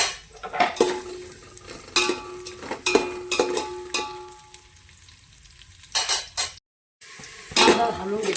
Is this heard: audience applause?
no